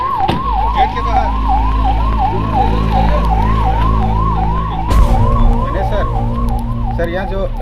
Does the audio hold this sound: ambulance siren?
yes